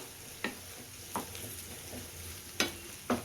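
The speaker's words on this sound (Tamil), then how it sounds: "கொஞ்சமாக வந்து கருவேப்பிலை அதிகம் சேர்த்துப்போம் சேர்த்துட்டு வதக்கி விட்டுக்கலாம்" Curry leaves sautéing in a pan, a faint steady sizzle under a background hum, broken by five distinct scraping taps of a spoon stirring.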